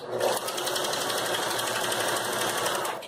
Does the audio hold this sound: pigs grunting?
no